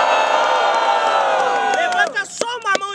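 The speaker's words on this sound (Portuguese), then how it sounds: "barulhos, barulhos pra quem gostou das rimas do Snormax!" Crowd noise at a student rap battle final in Brazil: a swell of cheering and whooping voices that fades out over a few seconds, with scattered shouts and talk breaking through at the end.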